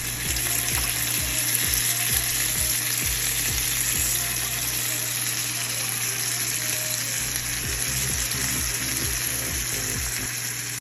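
Red and yellow peppers, bacon, onion and minced garlic sizzle steadily in a pan on medium heat, a dense continuous frying hiss with repeated soft scrapes of stirring and a faint low hum underneath, no voices.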